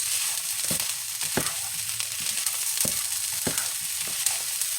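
Onions frying in vegan plant-based butter in a pan, a continuous close sizzle punctuated by several spoon scrapes and taps against the pan, with no voices.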